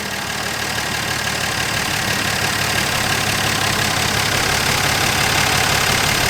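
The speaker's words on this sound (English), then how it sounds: "Motor sounds awesome." Engine of a long-neglected Dodge Dart Swinger running after a revival, a loud, steady, rough idle close to the car with no break and no talking.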